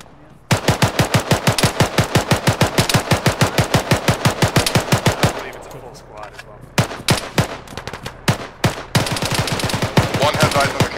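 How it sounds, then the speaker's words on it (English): Automatic gunfire in the video game Arma 3 during an air assault, with a long rapid burst of loud close shots followed by scattered single cracks and shorter bursts, and voices faintly underneath. "They're shooting down our left axis."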